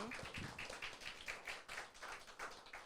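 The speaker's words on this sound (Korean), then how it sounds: "전효석 선생님, 박수 좀 부탁드리겠습니다." An audience at a volunteer event claps steadily, a faint, fairly distant patter of many hands lasting a few seconds without pause.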